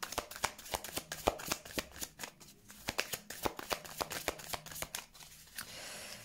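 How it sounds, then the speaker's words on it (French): A deck of tarot cards is shuffled by hand, a rapid run of crisp riffling snaps in quick uneven bursts, close and fairly quiet, ending in a soft brushing swish as the cards settle. "On va couper le jeu"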